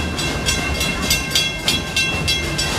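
A Serengeti Express green train rolls between Nairobi and Congo stations at Busch Gardens Tampa Bay, giving a steady low rumble broken by rhythmic clacking bursts of the wheels, heard from on board with no talking.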